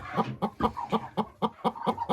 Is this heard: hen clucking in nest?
yes